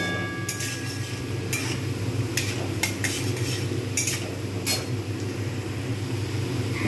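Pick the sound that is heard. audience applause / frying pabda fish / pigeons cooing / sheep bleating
frying pabda fish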